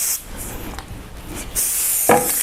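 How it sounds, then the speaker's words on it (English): Adhesive spray aerosol misted onto a t-shirt on a multi-color garment printer setup, heard as short hissing bursts, one brief and then a longer steady spray toward the end, close by. "I spray my adhesive on there."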